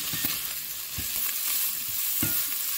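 Bacon lardons and ham are stirred in a frying pan, giving a constant close-up sizzle with soft rhythmic taps and scrapes as the pieces are mixed.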